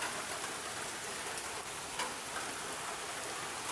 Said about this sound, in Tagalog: Umuulan po. Kala niyo po sa hindi po umuulan po sa akin.